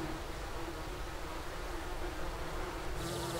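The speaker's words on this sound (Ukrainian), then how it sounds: "Бджоли літають з квітки на квітку, збираючи нектар." Bees flying among flowers and gathering nectar near a village on the Seym river in Ukraine, a steady close buzzing drone with soft rustling, and no voices.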